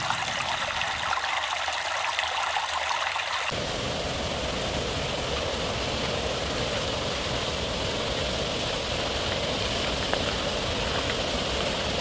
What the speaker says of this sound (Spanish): El río Tepehuicil así se encuentra.